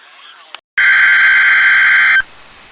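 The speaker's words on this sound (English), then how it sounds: "This has been a test of the NOAA radio tone and same alert systems." A NOAA weather radio alert tone sounds as a single loud, steady electronic tone lasting about a second and a half, after a short burst and a moment of silence.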